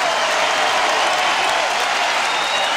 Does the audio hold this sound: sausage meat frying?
no